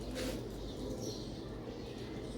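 A pigeon coos softly and continuously close by, a low murmuring call with no talk over it.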